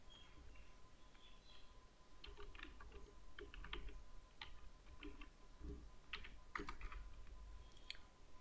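Quiet, rapid keyboard typing entering a folder name in the Outlook app, a light irregular patter of clicks over faint background hum.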